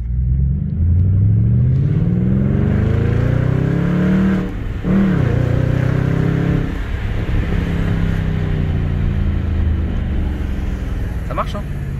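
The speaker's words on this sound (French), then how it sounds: "Vas-y, accélère un peu." An Audi S5 revs and accelerates up close, its loud engine rumble climbing steadily in pitch, dipping briefly and then holding a strong steady drone, with people talking over it.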